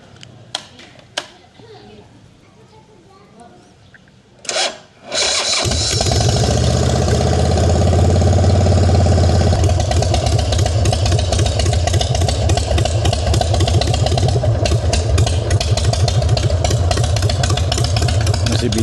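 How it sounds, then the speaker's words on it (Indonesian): A chopper motorcycle that has sat unused for a month is cranked and fires up after a few clicks and a brief stutter, then settles into a loud, close, steady idle with voices nearby. "Oke, kita coba hidupin ya. 1 bulan nggak dihidupin."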